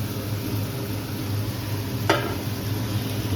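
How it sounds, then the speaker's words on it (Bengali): Chicken pieces for chilli chicken sizzling in a hot pan, a loud continuous broadband hiss with one brief scrape or clink partway through. "এবার আমি মাংসটাকে পুরো দিয়ে দিচ্ছি।"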